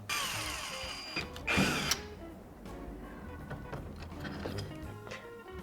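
A power drill unscrews the bolts of a door lock lever up close in short whirring bursts, the loudest early on, followed by quieter mechanical clicks and handling.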